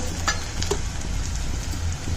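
Tempering seeds with cashews and garlic sizzling in hot ghee, a close, steady crackling fry with small pops, loud and continuous without talk.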